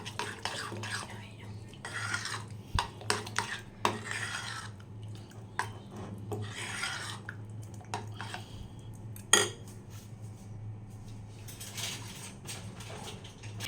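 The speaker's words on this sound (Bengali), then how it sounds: "এবারে ভেজে নেওয়া কারি পাতা আর সর্ষেটা এই সুজির ব্যাটারের মধ্যে দিয়ে দেব। ভালো করে মিক্সড করে নেব।" A spoon stirs semolina batter with fried curry leaves and mustard seeds in a bowl. It makes soft scraping and clinks against the dish, with irregular light taps over a low steady hum and faint background murmur.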